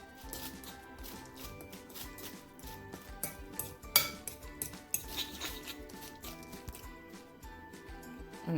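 Seasoned plantain fritter batter is stirred in a bowl, with quiet, irregular scraping and clinking of a utensil against the bowl and a few sharper knocks, close and soft, with no talk.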